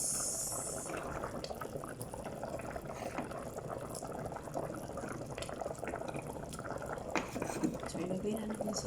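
Potatoes and vegetables going into a pot of boiling liquid for salona meat, with a continuous bubbling and watery churn, occasional splashes and clunks, and a voice talking over it throughout.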